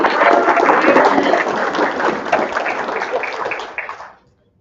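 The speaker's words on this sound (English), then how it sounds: "one more round of applause" An audience at a pitch competition gives a round of applause, dense clapping from a crowd that holds steady and then thins and stops.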